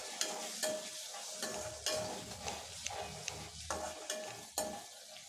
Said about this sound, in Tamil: அடுத்ததான் இது கூடவே 3 வரமிளகாய் இதையும் சேர்த்து நல்லா வதக்கி விட்டுருங்க.